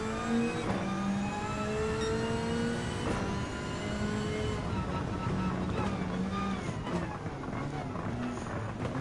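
Group 3 race cars, including a 2019 Audi R8 LMS Evolution and a Corvette, racing in Gran Turismo 7, with steady layered engine drone and shifting pitches as several cars run close together in a continuous stream.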